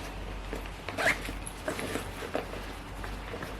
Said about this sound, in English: A zipper.